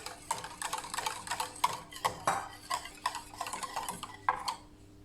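A spoon stirs warm milk into a mixture in a saucepan off the heat, with a series of light clinks and scrapes against the pan at an irregular rhythm, close by and quiet, with no talking.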